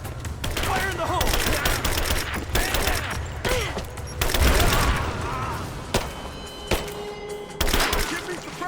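Rapid bursts of gunfire and explosions from the video game Rise of the Tomb Raider, with repeated loud volleys and heavy thumps filling the whole stretch, shouted voices mixed under the combat noise.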